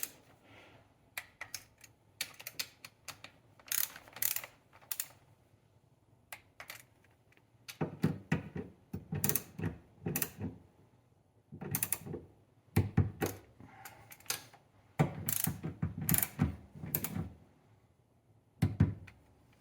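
Ratchet wrench clicking in repeated bursts as fuel injector bolts are tightened on a 1991-2005 Honda NSX, close and fairly loud with short pauses between strokes, no talking.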